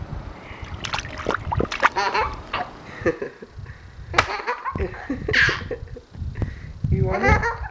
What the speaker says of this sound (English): Splashing himself in the face.